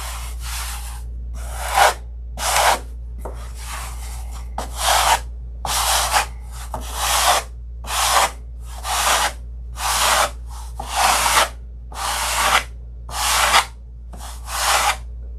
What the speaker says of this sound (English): I want to leave enough material on there that I can sand it to shape